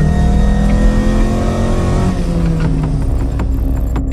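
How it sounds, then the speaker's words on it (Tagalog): A 1999 Honda Civic SiR, a legit SiR that has had an engine swap, revs loudly and close up. Its strong engine note sags slightly in pitch across the few seconds with no talking. "It's a 1999 Honda Civic."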